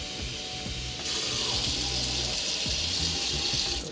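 Water runs steadily from a kitchen tap into a vessel, a continuous hiss that grows louder after the first second and holds, with faint clinks underneath.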